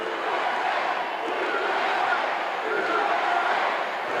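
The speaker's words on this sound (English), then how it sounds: "now we've got a cheer going on, and the cheer is USA." A large wrestling arena crowd in Houston roars steadily, chanting "USA" in a rhythmic swell of many voices, loud and continuous throughout.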